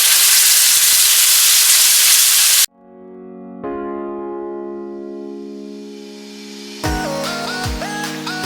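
A bone-in ribeye steak hitting a hot cast iron skillet, with a loud, steady sizzling hiss that continues close and strong, while tonal clatter and ringing notes sound over it toward the end.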